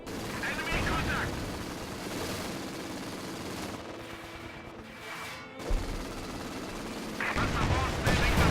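Panzer IV tank and artillery firing in Company of Heroes 2 on a defensive map, heavy booming shots and rumbling blasts rolling one after another, with radio-style crew voices heard among the battle noise.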